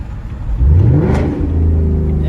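A 2025 Ford Mustang with a 5.0 V8 and Roush exhaust revs twice, each blip rising and falling as the engine idles on its own. There is a loud, deep burble close by, with no talk.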